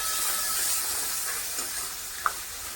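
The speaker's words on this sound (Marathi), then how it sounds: "तो पावटा टाकून छान परतून घेऊयात।" Shelled pavta beans are stir-fried in masala, making a close, steady hiss and sizzle as they are tossed, with a few light scrapes and a sharp clink near the end.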